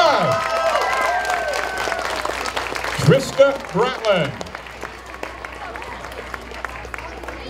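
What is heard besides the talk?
audience applause for pageant contestant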